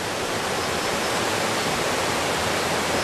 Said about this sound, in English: Near the river flowing.